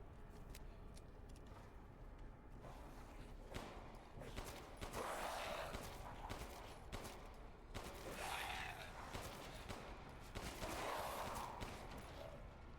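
Gunfire in Resident Evil 8 comes as faint, sharp bursts that recur every few seconds over a low, quiet game background with occasional mechanical clicks.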